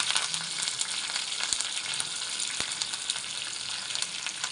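Curry leaves crackle and sizzle in hot oil in a pan while sambar is being made, a steady loud frying hiss with a few sharp pops and no talking.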